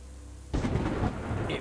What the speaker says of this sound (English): when we have the thunder